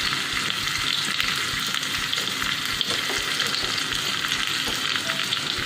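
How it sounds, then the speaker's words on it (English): Crushed garlic, green chilies and curry leaves fry in hot oil, a steady close crackling sizzle with small pops, continuous and alone throughout. "I'm adding crushed garlic and green chilies along with some curry leaves. Let this crisp up."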